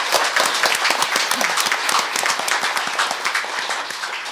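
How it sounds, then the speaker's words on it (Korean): Large audience breaking into sustained applause at a live event about single mothers, dense clapping filling the room steadily for the whole stretch. "용기 더하기 큰 박수로 다시 한 번만 박수"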